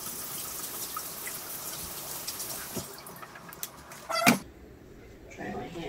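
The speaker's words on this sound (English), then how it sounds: "Rinse these guys off." Bell peppers rinsed under a running kitchen tap, a steady close splash of water through most of the stretch that cuts off abruptly near the end, followed by quieter handling noises.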